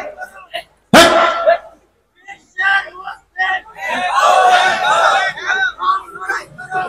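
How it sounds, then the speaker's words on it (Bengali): A crowd at an Islamic sermon gathering shouts a takbir chant: a sudden loud collective cry, then bursts of massed voices rising and falling in waves, with a swelling sustained roar near the end. "এরা তাকবীর দিলে হ্যাঁ হ্যাঁ"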